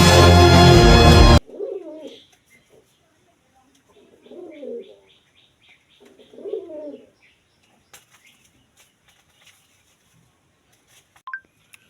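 Pigeons coo on a sunny rooftop in three soft, separate bursts with quiet gaps between them, following a brief loud burst of sound at the very start.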